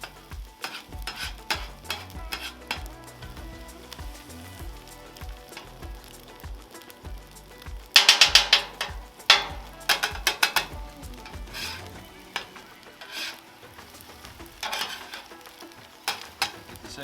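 Metal spatulas scrape, chop and stir egg into pulled pork fried rice on a Blackstone 36-inch griddle, giving irregular clinks and taps over a low sizzle, with a burst of rapid chopping midway.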